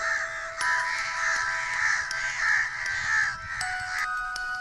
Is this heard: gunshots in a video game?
no